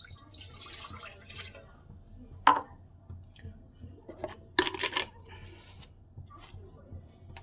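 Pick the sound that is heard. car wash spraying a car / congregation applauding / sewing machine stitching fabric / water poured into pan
water poured into pan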